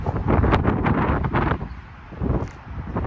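Strong wind buffets the microphone in loud, gusty roaring bursts beside a busy highway in the United States, easing briefly before picking up again; no one speaks.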